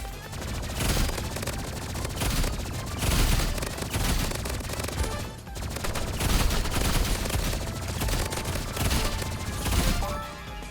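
Pistol gunfire in the Roblox game Rivals, rapid bursts of shots packed densely over about ten seconds, loud and continuous with no talking.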